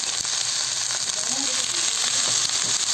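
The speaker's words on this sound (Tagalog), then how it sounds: "Igisa lang natin siya hanggang sa lumambot siya." Cut eggplant sautéing in a pan for an Ilocano dish, a constant close frying sizzle and hiss with faint stirring scrapes and no talk.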